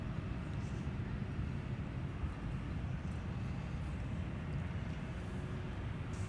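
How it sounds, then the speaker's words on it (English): A Delta Boeing 757 jet at Minneapolis airport: a steady, distant low rumble of jet engines continuing evenly throughout. "Here is Delta with the 757 headed to Atlanta"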